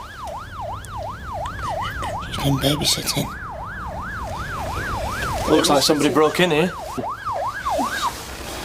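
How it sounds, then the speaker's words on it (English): An ambulance siren wails continuously in a fast, regular rising-and-falling pattern, moderately close, while people talk over it. "Is that the ambulance?"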